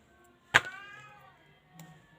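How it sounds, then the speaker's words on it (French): A house cat lets out one loud, clear meow while asking for food, followed by a fainter short sound, in a quiet kitchen. "vous entendez mon chat qui réclame déjà sa nourriture"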